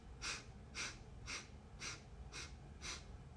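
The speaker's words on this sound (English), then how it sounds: "7 short inhales through the nose to make 1 complete inhale." Six short, evenly spaced nasal sniffs come through the nose in pranayama breathwork, each a soft breathy hiss about half a second apart, close and quiet against faint background hiss.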